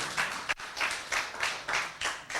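A group of children applauds in steady rhythmic waves, the claps rising and falling several times in quick succession with no talking.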